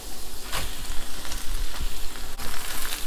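Hand-torn cabbage hits a hot wok for a Szechuan stir fry, giving a loud, steady sizzle with crackling spatters and a few scraping stirs over about three seconds, with no talking.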